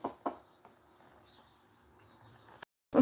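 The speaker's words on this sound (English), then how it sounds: "it started out dark with crickets" Crickets chirp in the dark night, a faint high pulsing trill repeating in short bursts, with a few soft knocks nearby.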